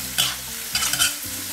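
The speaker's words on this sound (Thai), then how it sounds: "เสร็จแล้วก็ผัดคลุกเคล้านะครับตรงนี้เร่งไฟแรงๆเลยนะครับ" Sweet and sour pork stir-fried in a pan over high heat, a loud continuous sizzle with scraping stirs of the spatula in a few quick strokes, no voices.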